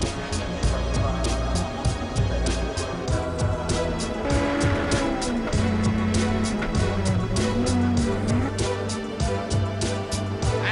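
Touring cars race at Sepang circuit, engines revving hard with rapid gear changes and rising, falling pitch as they pass, loud and continuous, with brief tire squeal mixed in.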